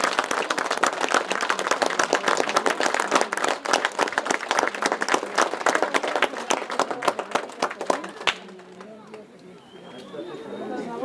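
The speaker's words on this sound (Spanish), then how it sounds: "Un aplauso muy fuerte para esta nueva mayordomía del Señor San Antonio" Loud, dense applause and crowd chatter from a gathering honoring the new stewardship of Saint Anthony at a religious flag ritual in Mixquiahuala, running for about eight seconds before cutting to quieter murmuring.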